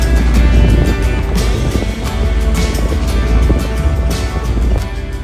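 A Jeep 392 drives a mountain road, its engine and tire rumble forming a steady, loud, dense low drone with a continuous wash of wind and road noise throughout.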